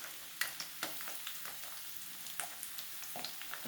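Spices sauté in hot oil for a sweet-sour spicy pickle, giving a soft, steady sizzle with scattered crackles and pops. The sound is quiet and close, with no talking.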